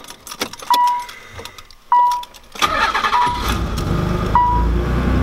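Stock-exhaust car engine cranks and fires up, with keys jangling and a few beeps first, then a steady close engine rumble and idle carrying to the end.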